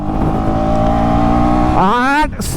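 A 2024 KTM Duke 250 single-cylinder motorcycle revs up under hard acceleration, a loud close buzzing engine note that climbs in pitch, then shifts with a sharp rising sweep before cutting off abruptly.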